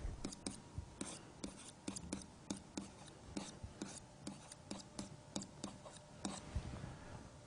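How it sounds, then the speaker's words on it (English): Pen writing out math on paper: close, quiet scratches and taps in quick irregular strokes, steady throughout with no talking. "So let me write that out."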